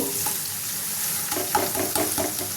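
Garlic and onion frying in oil in a pan, then ginger paste going in, a constant close sizzle with a few clacking stirs of the spoon toward the end.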